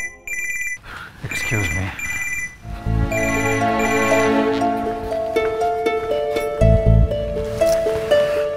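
A telephone rings with repeated electronic trilling bursts that continue steadily under background music and a voice speaking briefly, at moderate volume.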